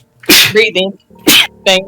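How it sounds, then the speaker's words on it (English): Two sharp, loud hay fever sneezes come in quick succession, each a forceful noisy burst followed by short voiced aftersounds, close to the microphone. "I just need to recover from previously mentioned hay fever sneeze."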